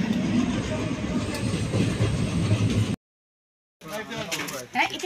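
A passenger train in Assam rumbles along with a steady rolling clatter and engine hum, then cuts out abruptly before a quieter stretch with people talking nearby.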